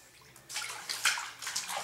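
A child being bathed in a bathtub sets off short bursts of water splashing and sloshing, several quick splashes close by with no talking.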